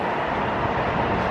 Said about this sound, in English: That's the train running past.